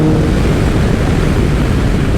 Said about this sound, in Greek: Εδώ δίνει πολύ ροπή το μηχανάκι.